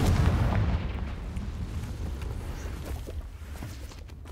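A Confringo fire spell detonates in Hogwarts Legacy, a loud rumbling blast that opens the span and rolls off into a long, low fading roar.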